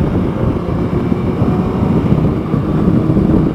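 A Kawasaki ZZR1100 motorcycle engine drones loud and steady while riding, a deep continuous rumble heavily mixed with buffeting wind noise on the microphone.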